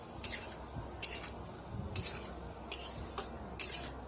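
Pieces of dried fish, eggplant and potato are stirred in a frying pan, giving repeated scraping strokes about once a second over a soft, steady sizzle, with no talking.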